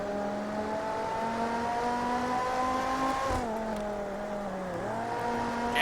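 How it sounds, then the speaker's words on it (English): A V8 race car engine in the Total Immersion Racing video game holds a steady drone, then briefly shifts pitch with gear changes while cornering, heard alone without commentary. "It's kind of like a nice clean V8 sound to it."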